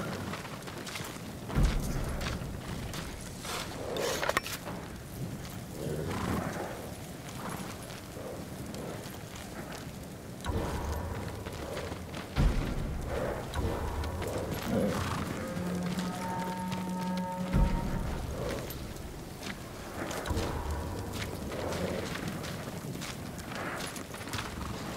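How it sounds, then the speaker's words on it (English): Horses in the samurai game Ghost of Tsushima trot with rhythmic hoof clip-clops, with a few snorts and a brief neigh in between, set against a dense cinematic ambience and a sustained low tone at times. "Get to the horses. They're samurai horses."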